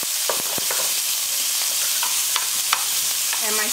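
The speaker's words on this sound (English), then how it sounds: "we're going to start sauteing our vegetables" Green pepper and onion sauteing in hot pork drippings on a stove set high, a steady close sizzle and frying hiss with scattered sharp crackles and pops throughout.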